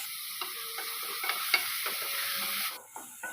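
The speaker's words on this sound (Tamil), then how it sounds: "இப்போ காய் நல்லா ஓரளவுக்கு வதக்கியிருக்கோம்" Mixed vegetables with peas, beans, carrot and potato sautéing in a pan, a constant close sizzle broken by several sharp scrapes and taps of a spoon against the metal.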